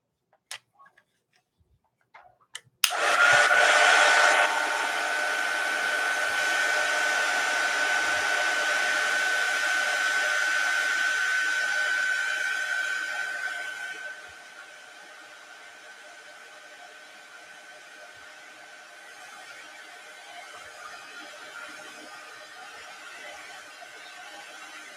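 A hair dryer switches on with a click after a few faint taps. It blows loudly and steadily with a whining tone while drying watercolor and alcohol ink on Yupo paper, then drops to a much quieter, lower airflow for the rest.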